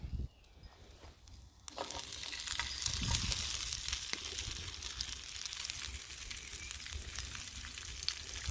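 Chopped raw onion sizzles loudly in a pan over a campfire, a steady crackling fry that bursts in abruptly after a quiet start and carries on continuously with small spits.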